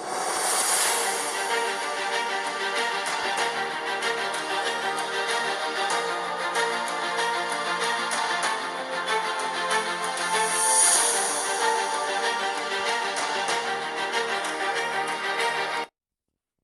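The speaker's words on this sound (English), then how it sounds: "And also the speakers sound like this." Razer Blade 15 gaming laptop speakers playing an audio test at 80% volume, dense full music at steady loudness, cutting off abruptly near the end.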